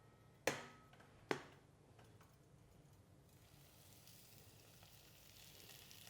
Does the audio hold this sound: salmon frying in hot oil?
yes